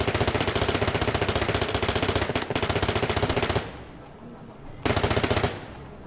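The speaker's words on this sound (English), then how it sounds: "this got us a quick shooting Tommy gun with a good amount of recoil" Rapid automatic bursts from a Tommy gun in the VR Funhouse game, loud and steady for about three and a half seconds, a short pause, then another brief burst.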